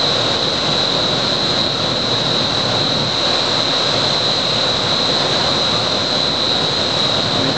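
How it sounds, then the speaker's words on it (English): A homemade transportable wind tunnel with a spinning test turbine gives off a loud, steady rushing roar with a constant high whine, unbroken and close. "This is what you call a homemade wind tunnel."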